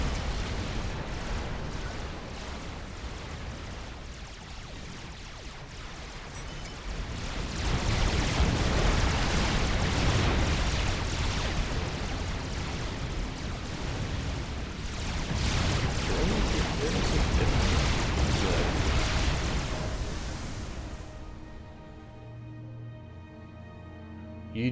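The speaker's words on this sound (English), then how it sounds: "they're building quite a few bombers, bombing their opponents" Bombers in the real-time strategy game Supreme Commander: Forged Alliance set off a rolling wall of explosions, dense booming bursts that swell twice to loud peaks before fading, with a voice talking over them.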